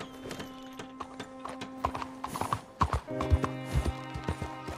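Rhythmic clip-clop of horse hooves at a steady trot in Red Dead Redemption 2, close and clear, with tonal hum in the background.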